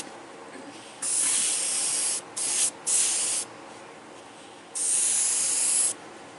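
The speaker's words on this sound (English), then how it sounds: "I sprayed yellow paint right over the tape." Airbrush spraying yellow paint onto a T-shirt: steady hissing bursts, near and fairly loud, in three main passes separated by short pauses, with a soft background hiss between.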